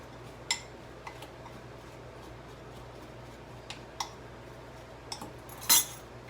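Spoon stirring chopped pecans with a tablespoon of flour in a bowl for banana nut bread: faint, sparse clicks and taps of the utensil against the bowl over a low steady hum, ending in a brief louder scrape.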